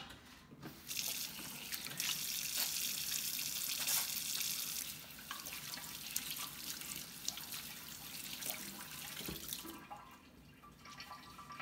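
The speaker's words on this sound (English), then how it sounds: "let me go ahead and wash my hands" A tap runs steadily into a sink as hands are washed, with a soft splashing flow and drips that ease off briefly near the end.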